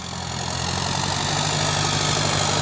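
A Powertrack Euro 60 tractor engine idles with its hood fully open, a loud, steady diesel rumble heard up close with no talk.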